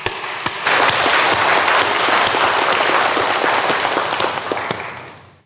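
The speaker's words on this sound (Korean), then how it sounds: "박수 한번 드릴게요." Congregation applauding the church choir during a thanksgiving Sunday service, a dense, loud burst of clapping that swells quickly, holds steady for several seconds and then fades out at the end.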